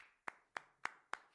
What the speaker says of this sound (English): Can we give him a quick round of applause?